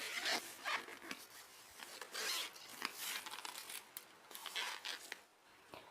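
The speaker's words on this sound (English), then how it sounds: "If you get one with a lid, then there's a zipper compartment on the inside." Zipper on the inner lidded compartment of a large Teamoy yarn storage bag, a series of close raspy zipping strokes in short bursts, rising and falling steadily across several seconds with no talk.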